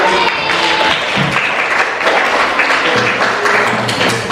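Students in a classroom clap in sustained, close applause, a dense even patter throughout with a few faint voices beneath.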